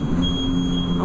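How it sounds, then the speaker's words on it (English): A steady high electronic tone from a modernized Otis traction freight elevator holds for a second over a low mechanical hum, a continuous beep in an enclosed space. "Oh, it beeps."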